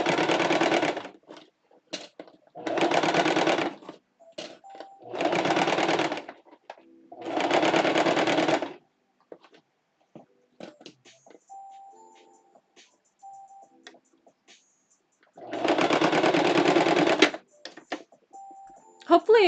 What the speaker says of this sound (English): I'm going to be sewing it on.